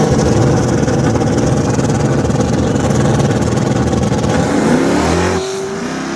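Loud hard-tire race car engine revving hard and continuously at close range, a dense, buzzing roar that holds steady before the pitch drops and eases near the end.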